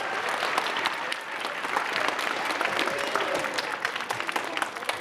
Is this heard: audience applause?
yes